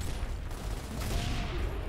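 Sniper rifle shots fired in Gears of War, loud and sharp within dense, continuous game combat noise that stays busy throughout.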